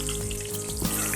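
Okra frying in a pan as chopped chillies are added, a steady close hiss of hot oil running throughout without a break.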